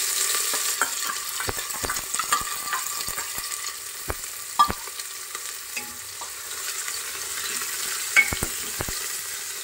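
Finely chopped onions fry in hot oil with asafoetida for vegetable pulao, giving a continuous soft sizzle punctuated by sharp clicks and taps of a spoon stirring against the pan.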